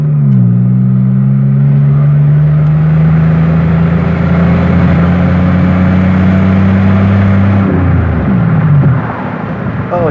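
An old Pontiac Grand Prix on its last drive before scrapping, engine droning loud and steady from inside the car with a constant low hum, then the pitch dips and shifts near the end.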